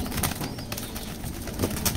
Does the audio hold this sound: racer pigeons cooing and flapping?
yes